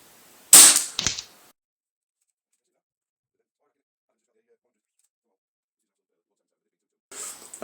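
A Weihrauch HW97K air rifle loaded with lightweight JSB pellets fires a close, sharp crack followed by a quick second snap, then silence until a softer report at the end.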